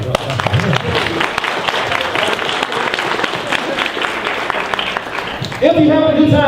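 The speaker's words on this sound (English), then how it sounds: "Y'all clap up for them." Audience at a Dragon Con fan panel clapping and cheering in a crowded hall, loud and sustained, with a voice speaking near the end.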